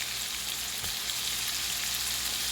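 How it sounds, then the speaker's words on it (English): Onions fry in a smoking-hot skillet with a loud, steady, close hiss that holds without a break, with one brief knock partway through. "I'm just going to toss those onions around a little bit and let them cook up"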